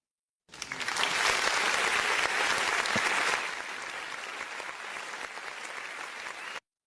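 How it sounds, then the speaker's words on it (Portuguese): Round of applause for a guest on a talk show, a dense steady wash of many clapping hands, loud at first and then dropping to a lower, sustained level before stopping abruptly. "uma salva de palmas para Malu Gaspar"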